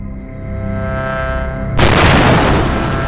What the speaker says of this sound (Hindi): तभी यान में तेज धमाका होता है। पूरा यान हिल जाता है।